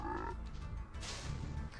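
Frogs croaking in Spyro the Dragon, a short run of low, throaty croaks at close range, fairly quiet, with no talking.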